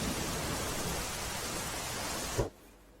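Continuous rain pours steadily in Anand district during days of heavy rainfall, a dense close wash of hiss that cuts off abruptly near the end.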